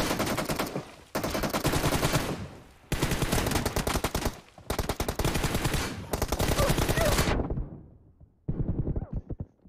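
Loud, close bursts of rapid automatic gunfire in a Battlegrounds Mobile India 1v1 team deathmatch: five long sustained volleys separated by brief gaps, then a shorter final burst after a pause, with no talking.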